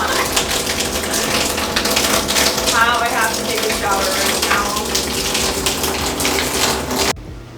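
Water sprays steadily and loudly from a broken shower head in an apartment bathroom, a dense continuous hiss that cuts off abruptly near the end.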